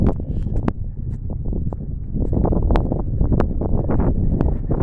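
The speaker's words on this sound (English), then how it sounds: "Sorry about the wind. Didn't realize it was going to be so windy." Gusty wind buffets the microphone with low rumbling bursts and sharp crackling pops throughout, outdoors at Cherokee Veterans Park in Canton, Georgia.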